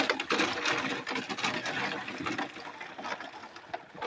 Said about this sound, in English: These are our SD chips, and we're going to pour them in.